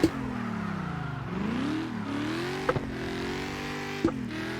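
A car engine in the video game CarX Drift Racing Online revs up and down through gear shifts in a steady drone, with a couple of sharp clicks or knocks along the way.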